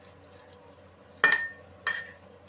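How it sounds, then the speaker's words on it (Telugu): A spoon clinks twice against a pot or bowl while stirring cumin, coriander powder and masala into eggplant pieces for a fry, the sharp metallic taps standing out over a quiet kitchen. "అన్నీ వేసుకున్నాక అవి చక్కగా కలుపుకుందామండి. వంకాయల ముక్కలకేమో మసాలాలన్నీ పట్టాలి."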